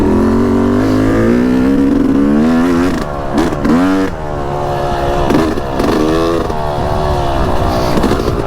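A Yamaha YZ250X two-stroke dirt bike rides near a small stream crossing, its engine loud and close with a raspy buzzing tone that rises and falls through quick throttle blips and revs, with no talking.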